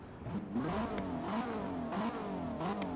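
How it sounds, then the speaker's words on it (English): A deep BMW engine in Forza Horizon 4 revs up and down several times in quick succession, a throaty V8 muscle-car-style roar heard alone. "This thing sounds like a muscle car."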